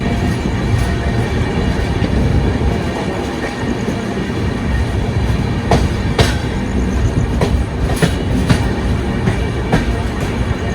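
A train runs loudly along the tracks, a constant rumbling roar with sharp rhythmic clacks and occasional metallic squeals from the wheels.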